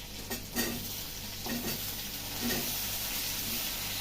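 Raw potatoes tipped into a pan of already fried onions on a home stove set off a steady, close sizzle with a few stirring scrapes, and no one speaks over it.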